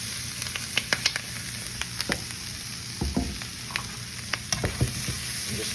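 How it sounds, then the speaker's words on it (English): Beef sautés in a saute pan with a steady, close sizzle, punctuated by frequent light clicks and scrapes of a utensil stirring the meat. "next we're gonna add the beef to the saute pan"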